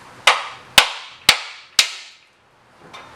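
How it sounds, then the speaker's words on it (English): A hammer strikes a rusted bolt on the rear crossmember of a Jeep CJ7 four times, each blow a sharp metallic crack at an even pace, followed by a short pause. "I'm going to see if I can pop that through with a hammer."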